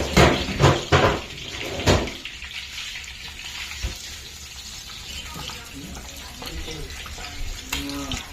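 Water poured out in a kitchen while cooking, with splashing and running-water sounds under intermittent nearby talk and clatter.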